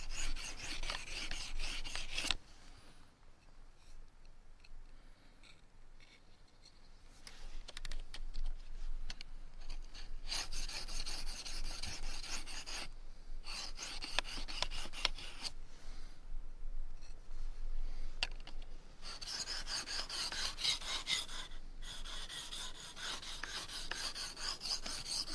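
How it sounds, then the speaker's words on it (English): A blade is sharpened on a coarse sharpening stone, giving repeated gritty rasping strokes close by in quick rhythmic runs, with a few short pauses between passes. "Once I've used the coarse side of the stone to just tidy up the edge"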